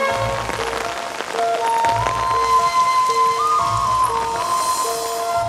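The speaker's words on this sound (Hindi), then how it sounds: "बाहर बारिश कितनी हो रही है?" Steady rain falls outside, making a dense, even patter throughout, with soft tonal music playing underneath.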